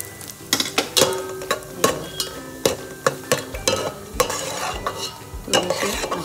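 A spoon clatters rhythmically against a pan as vegetables fry in a spiced tempering for veg pulao. Sharp metallic taps and scrapes sit over a soft, continuous sizzle, close and fairly loud.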